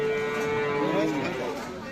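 A cow at a rural cattle market in Aftabganj, Dinajpur, gives a single drawn-out moo, with other people talking nearby.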